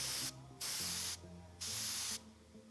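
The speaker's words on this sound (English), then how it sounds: "I'm going to spray the edges of it first." Three long bursts of hissing spray from a spray gun applying Cerakote coating, each about half a second, separated by short pauses, loud and close over a low hum.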